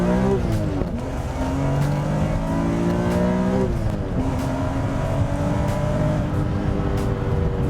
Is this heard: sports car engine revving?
yes